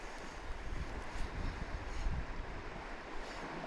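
Wind blows steadily beside the Tuul River during spinner fishing. It makes a dense, rushing roar with mild gusts, close to the microphone, and no voices are heard.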